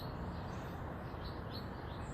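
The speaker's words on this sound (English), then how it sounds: "Listen to the birds sing to you in the morning." Birds sing in the morning outdoors, a steady wash of faint chirps and tweets spread over the whole stretch with no voices.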